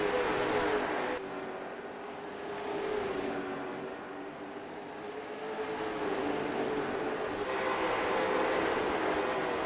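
Stock cars racing around Southern National Motorsports Park at night, their engines droning past in rising and falling waves, moderately distant and continuous.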